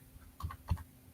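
A few light keystrokes on a computer keyboard, two or three soft clicks close by in an otherwise quiet room.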